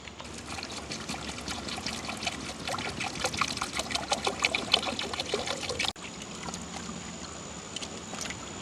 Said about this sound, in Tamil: இஞ்சி உள்ளியெல்லாம் நாங்கள் தோல் நீக்கி எடுத்துட்டோம் கழுவி எடுப்போம்